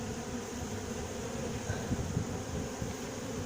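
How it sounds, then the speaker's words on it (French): Honeybees buzz around an open horizontal hive, a dense, continuous hum of many insects close by, steady in level with a few brief swells as individual bees pass near. "Il y a beaucoup de mouvements d'abeilles"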